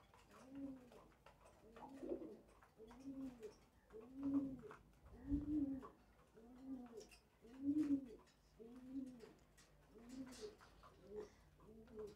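Racer pigeons paired in a loft cooing in a steady series of soft, throaty phrases, roughly one per second, close by with no talk.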